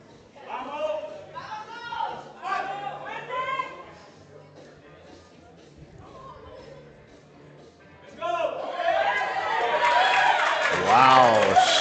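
Supporters in the crowd at a powerlifting meet, during a 190 kg opener in the 66 kg class, raise a loud rising cheer and shouts in the final seconds, after a stretch of someone talking over a quieter hall.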